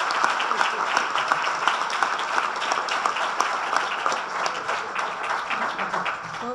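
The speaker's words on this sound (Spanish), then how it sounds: "Un aplauso para ellas." Sustained audience applause at an anniversary tribute event in Isla Cristina, honoring women artisans; dense, loud, continuous clapping from a sizable crowd filling the whole stretch.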